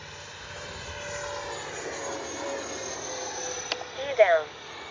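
A Freewing MiG-29 twin 80mm RC model jet drones steadily overhead with a faint whine, with a few brief sharp sounds near the end.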